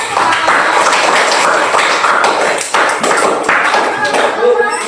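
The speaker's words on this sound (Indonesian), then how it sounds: "Tepuk tangan untuk kita." Classroom clapping during a primary-school maths lesson, a dense, steady patter of many hands close by, loud and continuous throughout with children's voices mixed in.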